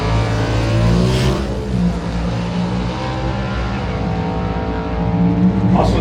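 A Hemi-powered Dodge Dart drag car with a Barton engine roars down a drag strip at a national event, its loud, sustained engine note rising as it accelerates and holding steady for several seconds.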